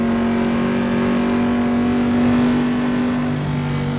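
Holden A9X race car engine at Mount Panorama, Bathurst, holds a loud, steady high-pitched drone that shifts slightly in pitch under load, heard from inside the car with no talking.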